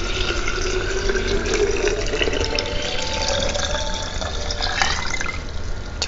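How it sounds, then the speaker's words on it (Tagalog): Room-temperature tap water runs from a faucet into a container, a loud, close, continuous gush with bubbling and splashing that shifts slightly in pitch as the vessel fills. "Then, yung tap water. Huwag mainit, huwag ma-lukwa, huwag malamig."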